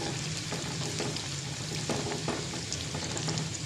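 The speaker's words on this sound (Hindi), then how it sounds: "जिस ऑयल में हमने कोफ्ते फ्राई किए थे उसी में हम ये डाल देंगे। पहले हम प्याज ऐड करेंगे" Onions frying in hot oil left over from frying koftas, for a kadhi pakora tadka, giving a steady close sizzle with faint stirring clicks and no talking.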